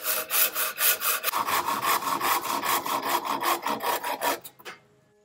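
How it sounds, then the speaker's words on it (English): A hand saw rasps back and forth through a wooden stick in about a dozen even, rhythmic strokes, close and loud, then stops as the cut finishes, with no talking. "let the saw do the work. Nice, even cuts."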